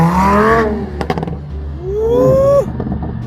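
A Lamborghini engine revs and rises in pitch as it accelerates hard, loud and close, with a sharp clatter in between and a second rising surge that cuts off.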